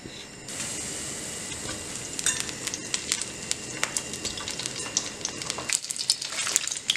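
Oil heats in a frying pan on high heat, a faint hiss building into dense crackling and spitting pops that grow sharper toward the end, close by and with no voices.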